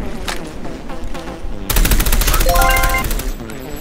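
Rapid automatic gunfire from shooting in the mobile game Call of Duty Mobile, loud and continuous, with sharper burst fire and overlapping game effects partway through.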